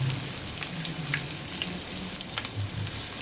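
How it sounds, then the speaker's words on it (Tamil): Battered banana flower 65 pieces deep-fry in hot oil, a close, constant crackling sizzle with small bubbling pops and faint stirring, and no voices. "போட்டு நல்லா பொரித்து எடுத்துக்கங்க."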